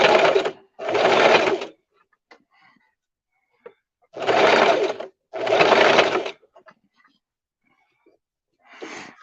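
A sewing machine stitching the seams of a spooky-themed simple skirt, running in two pairs of short bursts, each a couple of seconds long, with quiet pauses between and a brief start of another run at the end.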